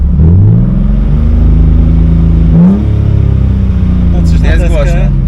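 A BMW E36's engine revs loudly and close through its exhaust, rising and falling in pitch across a couple of throttle blips, and a voice briefly speaks near the end.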